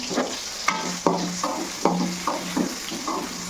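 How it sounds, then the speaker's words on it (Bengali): Sliced potatoes fry in hot oil in a pan, a steady close sizzle with a series of sharper stirring scrapes and bursts recurring every half second or so, no voices. "আলুটা আপনাকে ভেজে নিই"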